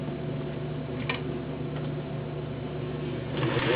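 A Singer 603E all-metal gear drive sewing machine runs steadily with a continuous mechanical whir and faint ticking, moderately close and alone.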